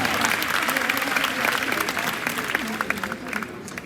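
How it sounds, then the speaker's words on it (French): Audience applause rolls through a show jumping arena, steady and fairly loud at first and thinning slightly toward the end, while an announcer's voice talks over it. "Non, un petit peu plus d'applaudissements."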